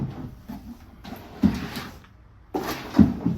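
Cabinet drawers in a 2025 Venture Sonic 169VUD travel trailer slide open and shut, two distinct rolling thuds with softer knocks around them, close and moderately loud.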